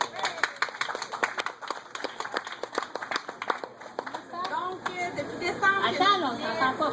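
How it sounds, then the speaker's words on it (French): Scattered hand claps from a small audience at a sponsor acknowledgement during a prize draw, uneven and fairly close, fading into overlapping voices and chatter in the second half. "Moi, je pense que ça mérite une bonne main d'applaudissements."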